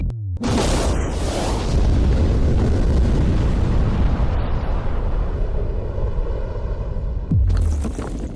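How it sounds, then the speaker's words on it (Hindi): A huge explosion, a Lamborghini destroyed in a giant shredder, roars out and sustains as a deep, loud rumbling blast for several seconds before cutting off. "भाई कितना बड़ा धमाका हुआ है।"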